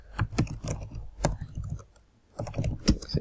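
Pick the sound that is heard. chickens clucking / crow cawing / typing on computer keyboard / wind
typing on computer keyboard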